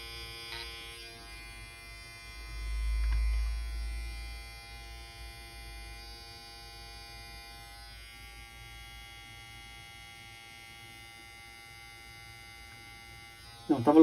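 A JRL FF 2020T hair clipper, run without fresh lubrication, hums steadily in a quiet room, swelling briefly louder early on before a clatter near the end.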